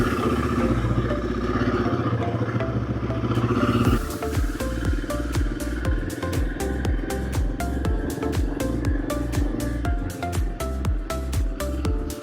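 A motorcycle pulling away in first gear on a ride out to Baner, its engine thumping in a fast, even pulse of firing strokes that stays close and steady, with no voices.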